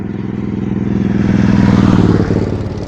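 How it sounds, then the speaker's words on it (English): Motorcycle passing by outdoors, a loud rough engine rumble that swells as it draws near and fades slightly as it moves on. "Hold on, motorcycle."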